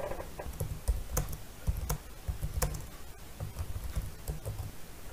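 Keys clatter on a computer keyboard as a draft is typed, a steady run of light, quick clicks in irregular bursts, close and fairly faint.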